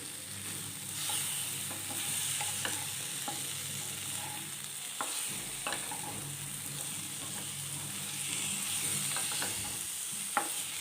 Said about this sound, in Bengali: আর এবার নেড়ে দেবো ভালো করে।